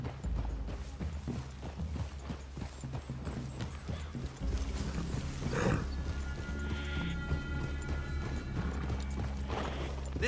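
Horses walking in the Red Dead Redemption II video game, a steady close clip-clop of hooves with occasional snorts and a whinny over a low ambient backdrop.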